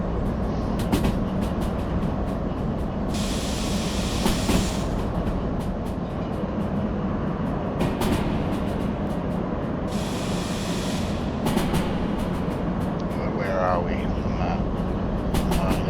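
A train in the railway simulator Derail Valley rumbles steadily along the rails toward a mountain cliff, with constant loud rolling noise and bursts of hissing air brakes, while someone talks over it.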